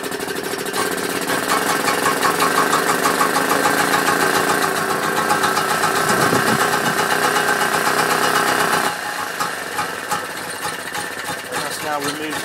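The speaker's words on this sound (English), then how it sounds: "Okay, so that's idling now," A steady, rumbling Vire engine idles continuously at close range after a cold start, without choke or throttle, its tone dropping slightly near the end.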